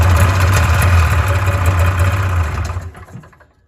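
A Polaris snowmobile engine, bought cheap and needing a fuel line, runs loud and close with a steady low drone, then cuts out and fades to quiet near the end.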